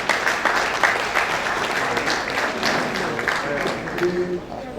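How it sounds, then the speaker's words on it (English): Audience applause at an agricultural research institute's annual lecture, a dense continuous wash of clapping held steady for several seconds before tapering slightly, with a faint voice or two underneath. "Can we give a round of applause?"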